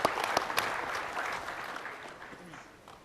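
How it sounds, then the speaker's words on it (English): Audience applause at SOE Live 2014, an EverQuest Next panel: a dense burst of clapping from a crowd, loudest at the start with a few sharp claps, then thinning and fading gradually over about three seconds. "I think that deserves a clap."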